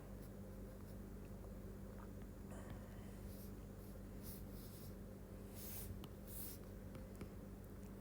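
A pen draws a diagram for a respiratory physiology lecture, with faint intermittent scratching and tapping strokes over a steady low background hum.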